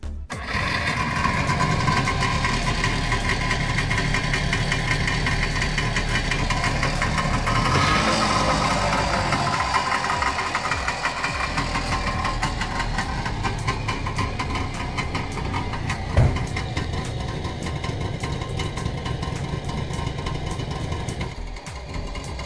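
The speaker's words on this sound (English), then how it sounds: "it has a classic two-stroke, less than a litre, 900 and something cc engine." A Barkas B1000 van's two-stroke engine of just under a litre idles with a steady, buzzy, slightly uneven chug, close and continuous throughout with no talk.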